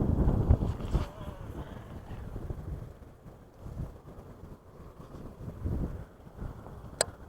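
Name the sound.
wind blowing while fishing outdoors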